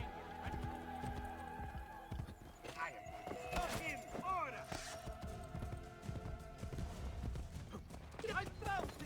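Horse hooves clip-clopping in Assassin's Creed Brotherhood on PS4, a quiet, uneven run of hoofbeats mixed with other game sounds and short chirping tones, while a person talks over it.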